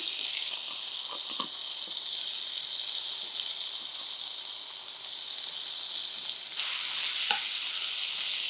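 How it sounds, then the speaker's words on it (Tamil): Tomato and brinjal sautéing in a hot pan give a steady, close sizzle with occasional stirring clicks throughout; no one speaks. "ஒரு ரெண்டு மூணு நிமிஷம் கொஞ்சம் நல்லா வதங்கணுங்க"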